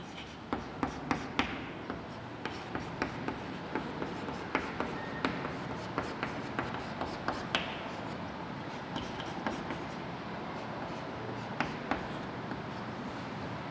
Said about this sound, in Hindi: अब देखिए इसको अपन लिखेंगे